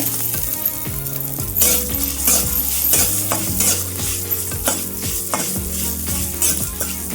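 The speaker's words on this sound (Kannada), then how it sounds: "ನಾನು ಹಸಿ ತೆಂಗಿನಕಾಯಿ ಹಾಕ್ತಾ ಇದ್ದೀನಿ ಅದನ್ನು ಚೆನ್ನಾಗಿ ಹುರಿಬೇಕು" Fresh coconut pieces roasting in a pan for a bitter melon chutney powder: a continuous sizzle under frequent metallic scrapes and clinks of a spatula against the pan, close and fairly loud, with no talking.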